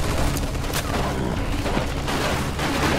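Sustained machine gun fire in a World War II battle scene from the video game Mafia II, a dense, loud, continuous burst of rapid shots layered with booms and battlefield din throughout.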